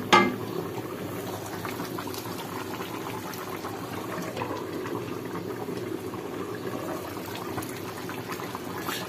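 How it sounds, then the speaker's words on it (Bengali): Meat for a wedding feast simmers in a pot with a continuous, even bubbling and boiling, close and moderately loud, with no talking. "মাংস রান্না হইতেছে।"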